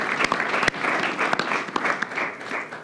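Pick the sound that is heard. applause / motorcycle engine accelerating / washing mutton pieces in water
applause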